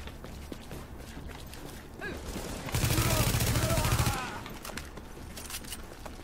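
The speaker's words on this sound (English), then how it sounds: "Who were they shooting at?" Gunfire in the video game The Division, heard as a dense burst of rapid automatic shots lasting over a second amid quieter game ambience and scattered smaller sounds.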